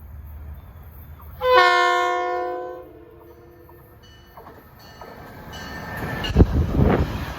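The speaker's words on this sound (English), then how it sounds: "approaching at 3:54 is 870 from Poughkeepsie to Grand Central" Metro North train 870 from Poughkeepsie to Grand Central draws near with a loud, multi-tone horn blast lasting about a second, then the heavy rumble and clatter of the passing cars builds close by.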